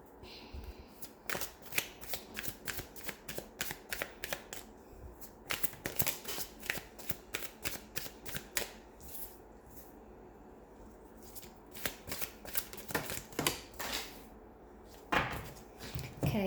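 Tarot cards are shuffled close up in repeated riffling and slapping bursts, with brief pauses between handfuls and occasional soft taps, then a final flurry of shuffling.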